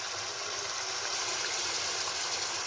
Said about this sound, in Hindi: पसंदे जो है ना वो फ्राई हो रहे हैं